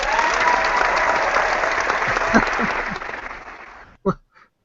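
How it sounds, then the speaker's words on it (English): A crowd applauds steadily, the clapping thinning and dying away, with a speaking voice coming in over the end. "Is that applause for breaking the rules, or what?"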